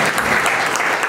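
A brief, dense patch of clapping from wedding guests honouring a speech, loud and continuous with no clear breaks.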